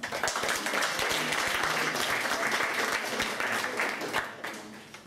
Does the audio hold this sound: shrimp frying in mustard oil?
no